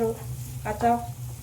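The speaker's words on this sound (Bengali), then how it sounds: "লঙ্কা ভালো করে ভেজে নেব।" Chopped onion and green chili frying in a pan, a close, steady sizzle with a short scrape of stirring partway through, no talking.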